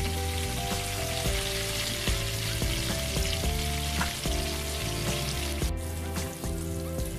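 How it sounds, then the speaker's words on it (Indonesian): Eggplant and tofu fry in oil and get turned in the pan, giving a steady, close sizzle beneath a constant droning tonal background with light clicks from turning. "Kemudian kita masukkan terong tahu tadi, lalu digoreng, dibolak-balik sampai"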